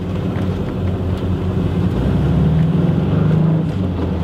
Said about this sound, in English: Engine sounds fantastic in this vehicle too.